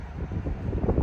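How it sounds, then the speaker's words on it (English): Outdoor wind buffeting a microphone on a cold early-spring day on the way to the supermarket, a steady low rumbling roar that holds for about a second with no voices. "Wind."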